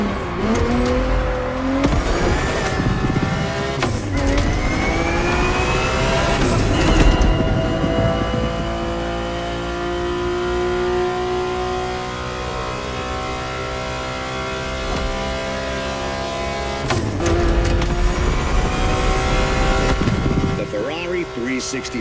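A Ferrari 365 GTB4 from the 1970s races in the video game Motorfest, its engine roaring loud and close, climbing through the revs with a drop at each gear change, while a voice talks over it.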